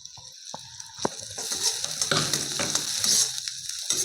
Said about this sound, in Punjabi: ਮਿਰਚਾਂ ਨੂੰ ਵੀ ਆਪਾਂ ਹਲਕਾ ਜਿਹਾ ਸੇਕ ਲਵਾ ਲਿਆ